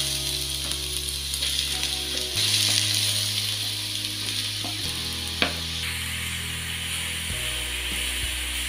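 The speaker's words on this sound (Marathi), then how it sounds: "हे तुपामध्ये मी सर्व दुधी आहे ना परतवून घेते।" Grated bottle gourd sizzles steadily in hot ghee in a pan, close and continuous, with occasional stirring scrapes and a low mechanical hum that shifts pitch in steps underneath.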